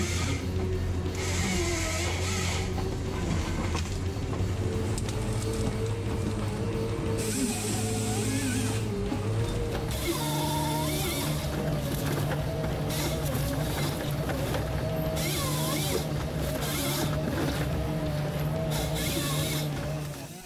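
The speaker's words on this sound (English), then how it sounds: "Introducing the Husqvarna 3120XP chainsaw with a powerful 118cc engine" A Husqvarna 3120XP chainsaw with a 118cc engine cuts into a large cypress tree, a loud, steady, high-pitched engine drone that swells and eases in bursts as the chain bites into the wood.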